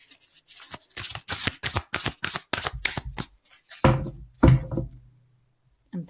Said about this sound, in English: 2 more shuffles on this one.